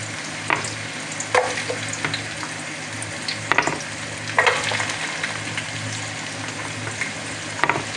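Ginger and onions sautéing in a pan, giving a steady close sizzle with occasional light utensil taps and scrapes scattered over the frying.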